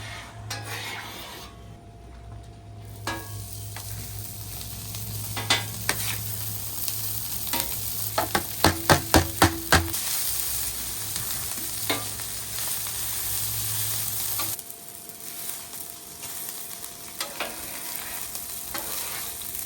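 High-heat oil sizzles steadily on a flat-top griddle at about 425 degrees, with a spatula scraping and tapping against the metal surface partway through.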